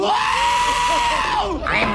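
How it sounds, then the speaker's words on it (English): Goats screaming in the Thor film, one loud, drawn-out, shrill bleating scream held for nearly two seconds, close and alone. "Screaming goats interrupted emotional beats over and over and over again."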